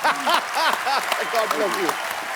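Studio audience applause on a Hindi comedy show stage, after a musical performance, a steady wash of clapping for about two seconds beneath a prominent voice talking over it.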